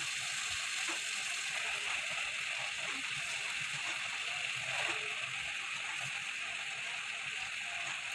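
Washed bottle gourd leaves go into a pan of shrimp and potatoes already frying, giving a steady, fairly faint hiss and sizzle that runs the whole time with a few soft stirring knocks.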